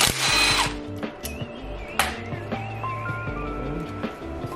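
Power tool whirs in short bursts while T30 bolts are removed from a BMW N55 engine during a teardown, several brief close whirring runs with clicks and mechanical clatter between them.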